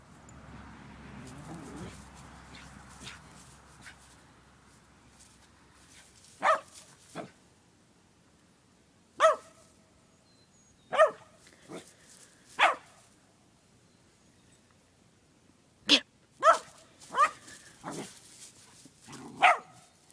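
A small dog barks in sharp, separate bursts from a played video, about a dozen yaps spaced irregularly over twenty seconds, with faint murmuring noise early on.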